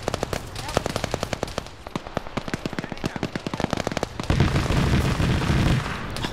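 Automatic gunfire rattles through a military video game fight against enemies in a jungle tree line, rapid close bursts of sharp shots followed by a denser roar of weapons fire.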